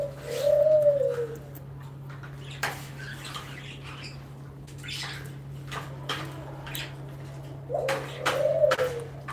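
Pet pigeons coo nearby, one soft rolling call at the start and another near the end, with light scuffles and knocks in between over a steady low hum.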